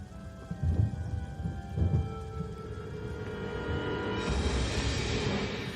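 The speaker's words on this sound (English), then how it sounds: "Is that rain?" Rain falls in the video game Lollipop Chainsaw while low thunder rumbles twice close together, then the downpour swells into a louder, steady hiss with no talk.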